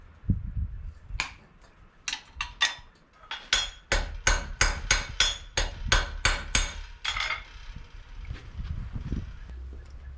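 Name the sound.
hammer peening a copper rivet on a horseshoe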